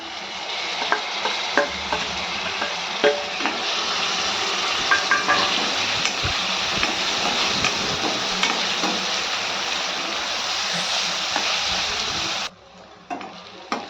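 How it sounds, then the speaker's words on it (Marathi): Finely chopped tomato tipped into a pan of onions, green chilli, ginger and garlic sautéing in oil, setting off a loud steady sizzle with scattered stirring clacks before the frying suddenly drops away near the end. "आता टाकू आपण बारीक चिरलेला टोमॅटो"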